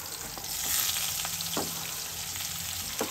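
Ingredients for a ridge gourd chutney fry in a pan with a loud, steady sizzle, broken by a few close scrapes and stirring knocks.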